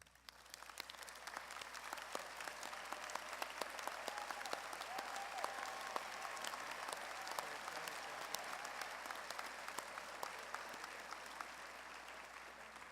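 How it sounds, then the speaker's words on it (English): A large commencement crowd at a university fine arts and communication ceremony applauds the candidates' parents, a long, steady roar of clapping that stays even and moderately distant throughout. "Would the parents of our candidates please stand and receive our applause?"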